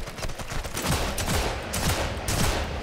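Bursts of machine gun fire ring out in rapid rattling volleys in the Sniper Elite 5 video game, continuous and fairly loud across the moment with no talk over it.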